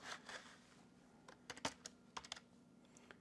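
Irregular keystroke clicks from a computer keyboard, typed in short uneven bursts and single taps, fairly close and quiet over a faint steady hum, with no voices.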